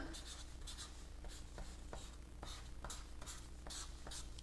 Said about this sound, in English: so I'm gonna draw my bug